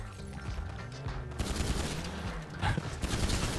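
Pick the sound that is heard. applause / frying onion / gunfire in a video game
gunfire in a video game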